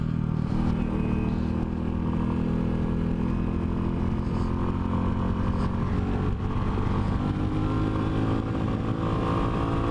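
A Royal Enfield single-cylinder motorcycle thrums steadily while being ridden through turns on a hillside road, the engine note loud and continuous with wind rush and no talking.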